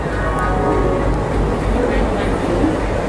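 Howrah–Prayagraj Rambagh 13047 Vibhuti Express with a new LHB rake arriving at a station platform, a steady loud low rumble of rolling coaches running throughout, with faint voices in the background.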